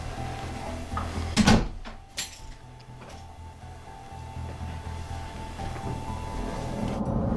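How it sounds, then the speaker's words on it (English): A door closes with a sharp, near thump and brief rattle, followed by a quieter second knock, then steady low room hum with faint ticking. "You can close the door, it's cold outside."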